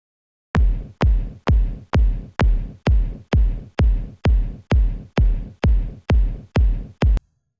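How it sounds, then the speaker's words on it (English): A deep, punchy electronic techno kick drum sample thumps in a steady four-on-the-floor pulse, about fifteen hits, loud and dry with nothing else playing. "That sounds like a nice kick drum."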